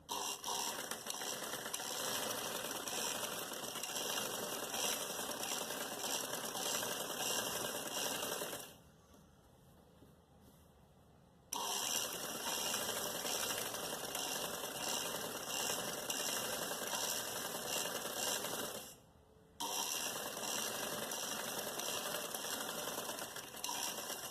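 A sewing machine stitching a trouser hem, its fast, even mechanical whirr and rattle running close and loud in long bursts, stopping twice for brief pauses.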